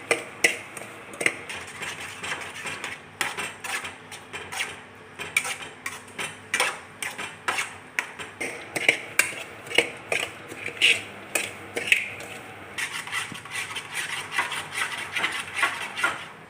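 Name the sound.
stirring and roasting semolina in a pan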